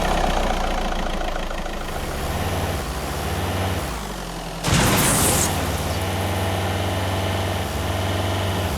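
Tech ATV engine running in a video game, a steady mid-to-low drone holding throughout with a sudden louder burst and bright hiss partway through, no talking.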